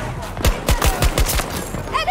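Rapid bursts of gunfire in the Breakthrough video game, about six sharp shots in quick succession and then a pause with faint game noise.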